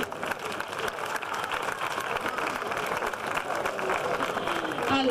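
Audience applause greets a man introduced at an Italian evening show on a ship, moments before a fashion parade begins; dense, steady clapping fills the room for several seconds, with voices mixed in and a brief whistle near the end.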